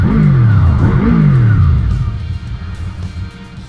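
Honda VFR800Fi motorcycle engine revving loud and close, with two rising-and-falling rev sweeps that settle into a rough, steady idle.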